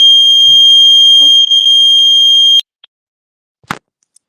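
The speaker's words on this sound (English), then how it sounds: "alarm went off" An alarm blares a loud, steady, high-pitched electronic tone for about two and a half seconds, then cuts off abruptly, leaving near silence broken by a couple of faint knocks.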